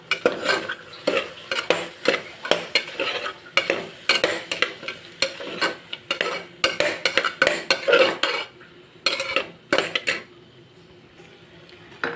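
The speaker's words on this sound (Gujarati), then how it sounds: "હવે આપણે બધા જ મસાલા મિક્સ કરી લઈશું" A spoon stirs masala rice spices in a pan, clinking and scraping against the metal in quick irregular bursts over a faint sizzle.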